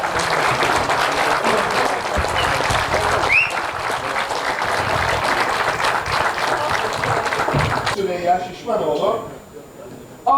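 Audience applause fills a municipal group opening ceremony in Fındıklı, steady and crowded for about eight seconds, then thinning into scattered claps beneath a speaker's voice on the PA.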